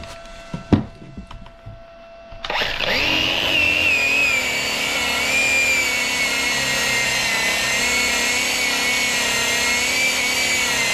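An Arc Captain MIG 250 welder set near 17.5 volts and 205 wire speed strikes an arc after a few faint clicks, then holds a steady, close buzzing sizzle with a high whine for several seconds.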